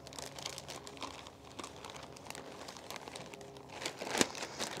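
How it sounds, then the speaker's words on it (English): A thrips-infested anthurium plant being pushed back into a plastic bag, giving close crinkling and rustling with a louder crunchy burst near the end and no speech. "This is going right back in the bag."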